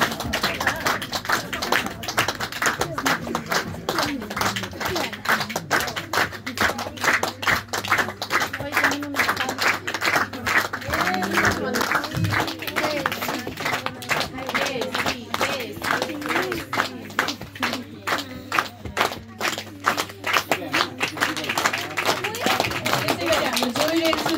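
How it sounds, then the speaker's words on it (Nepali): Audience applause at a Christmas service in a Nepali church, dense and steady clapping that fills the whole stretch at close range, with some voices murmuring underneath. "ताली बजाइदिनु है जेसी रेन सुनुवारलाई"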